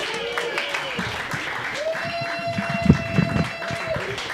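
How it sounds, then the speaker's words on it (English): A stand-up comedy crowd applauds a comedian, moderate clapping with shouts and cheers over a background hum, voices calling out, strongest in the latter half. "Let's give a big round of applause for Mr."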